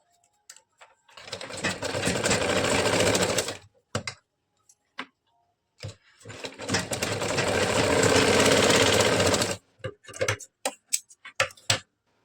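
Two long runs of an electric sewing machine stitching blouse fabric, steady and close, each lasting a few seconds, separated and followed by short ticking bursts and handling clicks.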